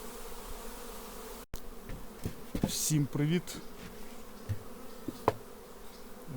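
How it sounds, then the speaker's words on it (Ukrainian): A steady, soft buzzing of many black honeybees at an apiary in spring fills the background, with a brief greeting spoken over it and a few clicks and knocks. "Шумить пасіка."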